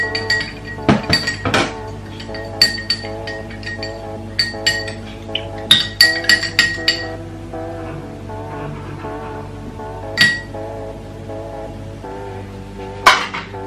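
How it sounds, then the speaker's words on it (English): A spoon stirs a lemon drink in a glass, giving bright, ringing clinks at irregular intervals with lingering resonance, close and fairly loud, without speech. "Then I'll just stir it."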